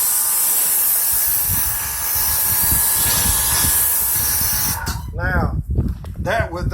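Greenworks Pro 2200 PSI pressure washer spraying soap, a loud steady hissing spray that stops abruptly partway through, after which someone talks close by.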